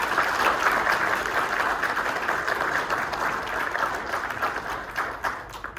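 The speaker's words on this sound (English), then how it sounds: "If we could give a round of applause for our panel." An audience applauds a panel with steady, dense clapping that carries on for several seconds before easing slightly toward the end.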